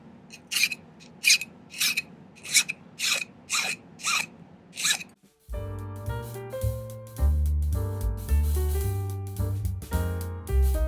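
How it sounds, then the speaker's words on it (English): A metal file smooths a silver three-stone tourmaline ring in about nine steady, rasping strokes, close and distinct. Music then takes over for the rest of the clip. "I'm just going to spend a little time filing this down and smoothing it out"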